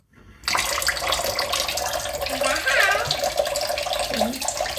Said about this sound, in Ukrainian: Включи, да, тільки не сильно водичку включи.